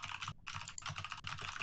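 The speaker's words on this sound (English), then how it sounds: "That's some fast typing, man." Rapid typing on a computer keyboard clatters steadily and close, as if picked up by an open mic during an online Among Us game session, with only a brief pause in the fast keystrokes.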